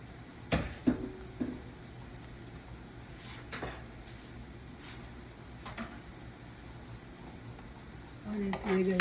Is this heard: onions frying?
yes